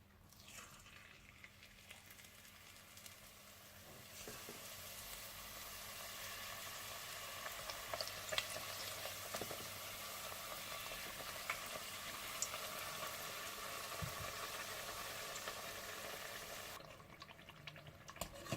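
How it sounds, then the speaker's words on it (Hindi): Chicken samosas deep fry in hot oil, a soft continuous bubbling sizzle with faint crackles and occasional small clinks, quiet and steady throughout with no voices. "और मैं भी अभी कुछ समोसे डीप फ्राई करूंगी"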